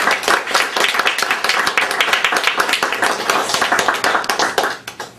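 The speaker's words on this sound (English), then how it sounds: "Let's have a big round of applause." Audience applause at a panel on FOIA and press freedom, a dense burst of many hands clapping close and loud for about five seconds, tapering off near the end.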